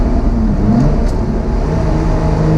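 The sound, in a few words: Lotus Exige Sport 380 engine revving in a tunnel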